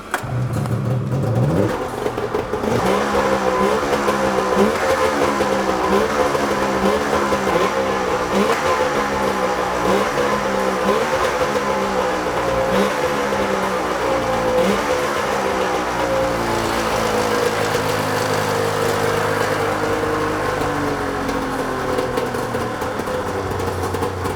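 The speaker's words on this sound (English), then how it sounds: "That's a snowmobile with a turbo on it that's spinning a little bit." A turbocharged Polaris Indy 650 snowmobile engine runs loud and close, with a steady throbbing, pulsing rhythm and slight rises in revs throughout, heard alone.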